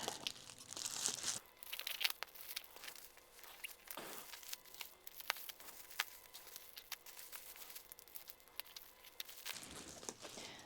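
Crinkling and tearing at a heavily taped package holding hoya plants, with bursts of crackling tape and cardboard, scattered rustles and a few sharp rips close by.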